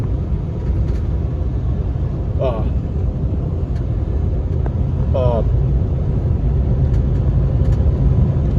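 A 2019 Freightliner Cascadia semi truck coasts on cruise control, giving a steady, loud low road and engine drone with no change in pitch and a few faint creaks and clicks inside the cab.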